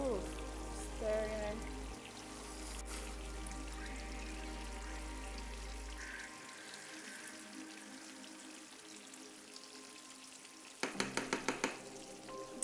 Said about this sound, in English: That sound I get when I'm cooking. Ooh, stirring.